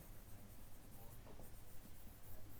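Pen or marker writing during a chemistry lecture, soft scratchy strokes in quick uneven bursts, faint against a steady background hum, with no talk.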